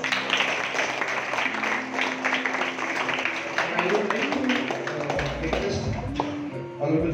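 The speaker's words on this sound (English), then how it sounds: "Please clap for him." A school audience claps in a distinguished recognition ceremony for a visiting tree planter, steady scattered clapping mixed with taps and room noise, with voices talking over it toward the end.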